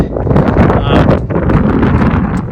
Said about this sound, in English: Sorry, another windy day. That's our early spring wind.